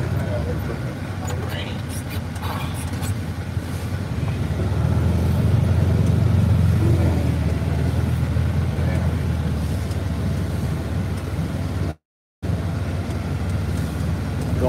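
Engine of the Oatmobile farm vehicle driving down a steep hill during silo filling, a low steady motor drone that swells midway, with people talking over it throughout.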